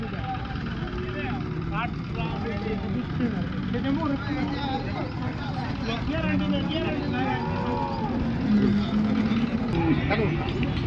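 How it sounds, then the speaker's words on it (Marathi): Several cows moo at intervals across a busy outdoor crowd at the Modnimb cattle market, with people talking throughout and an engine idling in the background. "तर शेतकरी मित्रांनो गाय पण बाहेर दिसते बघा देखणी."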